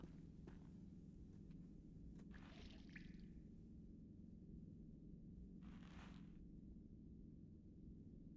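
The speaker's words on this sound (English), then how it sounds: "There's a faucet, which is leaking." Sparse water drops from a leaking faucet in the game The Black Mirror, a few soft wet splats and squishes at irregular intervals over a low steady room hum, faint and with no talking.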